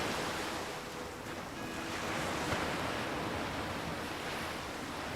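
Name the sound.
water waves in Nancy Drew video game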